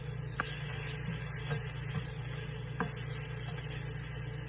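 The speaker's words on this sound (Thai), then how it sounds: "อันนี้เราก็จะผัดใส่กุ้งนะคะเพื่อน" Shrimp stir-frying in a pan, a steady close sizzle with a few faint clicks of a utensil against the metal, alone without talk.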